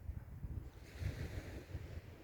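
Sea surf washes onto a rocky beach at eight in the evening, a faint low rolling rumble of waves mixed with wind buffeting the microphone.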